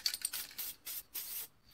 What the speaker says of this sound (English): Quick spray on top.